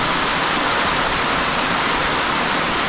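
Steady, dense rain pouring down, a continuous broadband hiss with no breaks and no voices.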